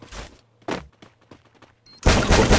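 A burst of gunfire in a clash squad match cuts in near the end after a few scattered thumps and pops, loud and dense, with rapid shots blending together.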